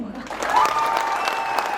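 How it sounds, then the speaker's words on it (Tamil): An audience at a Pongal festival gathering claps briefly and steadily, a moderate patter of hands with a voice speaking over the clapping. "நீங்க மட்டும் அப்படியே கைதட்டு"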